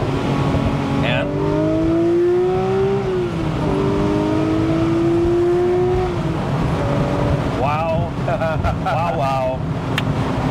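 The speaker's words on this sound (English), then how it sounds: "If you love that Porsche sound, that flat six, like just that angry, that, like, mean sound, bellow." Porsche flat-six engine accelerating hard through the gears, a loud rising drone with shifts that climbs, dips and climbs again, then breaks into rapid rasping revs near the end.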